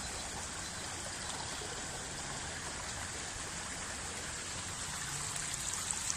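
A shallow stream being prospected for gold rushes steadily over its bed, a constant close, dense flow with no voices over it.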